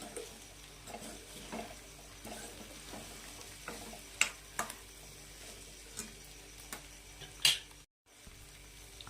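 Toor usal is stirred with sambar masala in a pan, a quiet bed of light sizzling broken by scraping spoon strokes and a few sharp clicks against the metal, with a brief silent gap near the end.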